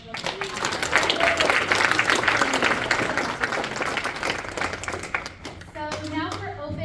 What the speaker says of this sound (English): let's give our writers and our artists another round of applause.